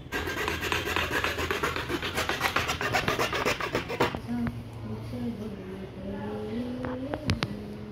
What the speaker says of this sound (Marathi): बांबू कापून घेऊया